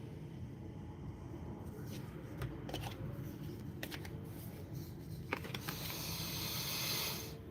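Tarot cards being shuffled by hand, a soft continuous riffling and sliding with a few sharper flicks, close by, over a low hum and some quiet background voice.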